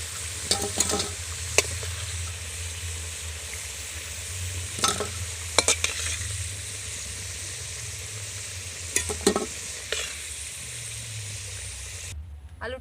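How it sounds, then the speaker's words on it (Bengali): Potato pieces fry in hot oil in a pan for vegetable khichuri, a steady low sizzle broken by a few sharp clinks and scrapes of stirring, with no talking. "আলুটা আমি খুব সুন্দর করে কিন্তু একদম লাল লাল করে ভেজে নেব"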